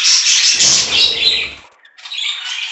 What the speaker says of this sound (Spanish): en donde quiero reproducir todos estos pericos que ya están emparejados